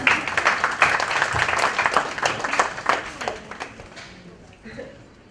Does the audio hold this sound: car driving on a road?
no